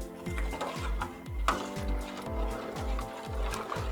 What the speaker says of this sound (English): Stir thoroughly.